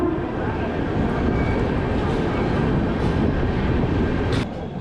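Poorva Express passenger train rolling out of Asansol Junction, a loud steady rumble of wheels and carriages with dense low clatter throughout, easing slightly near the end.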